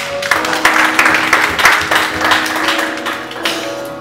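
A church congregation claps and applauds for Jesus in a loud, steady wash of many hands, with a musical tone held underneath.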